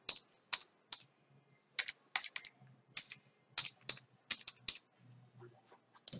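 Keys on a computer keyboard are tapped in quick uneven bursts while a folder name is typed. The sharp clicks sound close and fairly quiet, with brief pauses between strokes and no voices.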